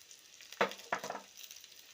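Black pepper, cinnamon, cumin, cloves and ginger hitting hot oil in a pan give two short bursts of crackling sizzle. Both bursts are close and fairly quiet, then settle into a faint hiss.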